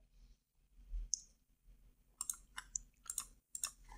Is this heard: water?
no